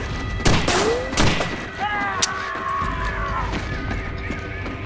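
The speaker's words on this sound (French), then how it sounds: "il tire sans viser en plus" Gunfire in the horror film The Hills Have Eyes (2006): a few sharp shots crack early, followed by a rumbling, whining aftermath under excited French chatter from viewers.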